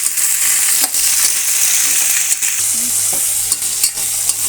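Okra frying in oil in a pan, a steady loud sizzle with occasional scraping clicks from stirring, no voices.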